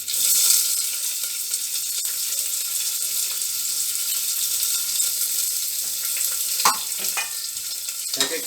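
Onion sizzles in a pan of hot oil with curry leaves, a steady close frying hiss with occasional clatters of stirring near the end; no one speaks.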